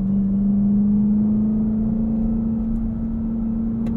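A 2023 Dodge Durango SRT Hellcat driving, with a loud steady engine drone heard from inside the cabin, its pitch rising slowly and smoothly as the SUV carries speed.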